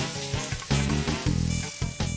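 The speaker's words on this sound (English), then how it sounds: "This grill is so hot." Food sizzling on a very hot grill, bursts of frying crackle swelling and dropping in uneven surges over about two seconds, close and fairly loud with clattering in between.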